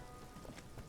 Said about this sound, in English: Now that, like, it's raining.